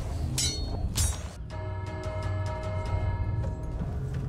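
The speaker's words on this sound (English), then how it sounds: "Gary, they don't like me ringing the bell" A bell rung repeatedly in Sea of Thieves, a sequence of bright metallic clangs with ringing overtones, steady and moderately loud over low background rumble.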